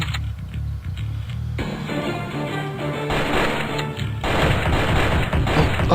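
Gunfire in the Strike Force Heroes 2 video game, a dense, steady stream of rapid game shots with music or effects underneath, growing louder and busier in the second half.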